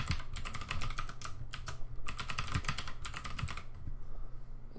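A computer keyboard is typed on in quick irregular bursts with a short pause, moderately quiet and close, while a username is entered during an Ubuntu 16.04 installation in VirtualBox, with no talking.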